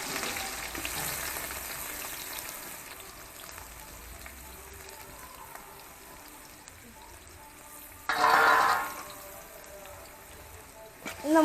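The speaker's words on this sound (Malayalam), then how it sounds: "നമുക്ക് ഉള്ളി ഒന്ന് വറുത്തെടുക്കണം." Sliced onions fry in hot oil for a spicy beef liver fry, a steady soft sizzle with louder crackling bursts near the end, while someone talks over the cooking.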